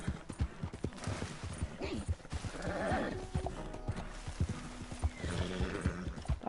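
Horse hooves clip-clop in a steady stream while a horse neighs and whinnies midway, in the open-world western game Red Dead Redemption 2, close and fairly loud with game ambience.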